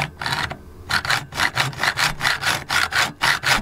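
A hand saw works through a metal part of a broken boat anchor windlass, giving steady, loud, rhythmic back-and-forth strokes after a brief pause, close up with no talking.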